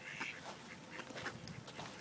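Ducks quacking in a park, a faint flurry of short quacks and calls in quick succession from a small group, soft and somewhat distant with no talk.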